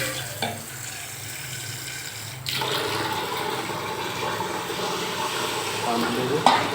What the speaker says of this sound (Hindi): हम हल्का सा पानी देंगे।